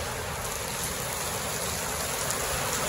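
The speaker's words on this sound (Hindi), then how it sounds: "तो भाइयों इतनी तेज बारिश आ गई है" Heavy rain pours steadily onto a festival pandal during a Ganpati Visarjan celebration, a dense, continuous hiss of water hitting the surface at close range with no pauses and no voices.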